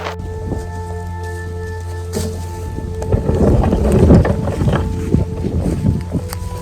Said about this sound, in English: the wind's starting to pick up. Like it's actually starting to turn into a blizzard